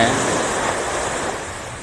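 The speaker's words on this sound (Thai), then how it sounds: "มีลมไหมครับ มีครับผมเห็นไหม ลมเบาๆ" Light wind and sea waves at Bangsaen beach, a broad continuous rush of surf and breeze buffeting the microphone, fairly loud and steady throughout the short stretch.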